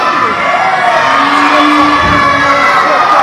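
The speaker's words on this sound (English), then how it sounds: "And the crowd here at the West Maldon Community Centre showing their displeasure at the sheer arrogance of Harrison Leon." Crowd at a community centre wrestling show voicing displeasure, a loud continuous wash of booing and jeering voices, with shouts rising above the roar.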